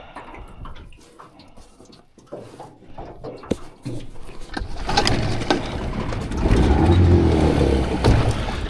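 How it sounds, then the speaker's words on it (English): A petrol outboard motor trolling a fishing boat on water, beginning with quieter handling knocks and water sounds, then rising into a loud, steady mechanical drone that holds close by for the rest of the stretch. "I'm going to troll with the petrol motor"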